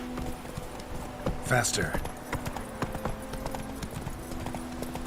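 In The Witcher 3: Wild Hunt, Geralt's horse Roach gallops with a fast, rapid clatter of hooves that runs throughout, loud and close, while a voice speaks briefly over it.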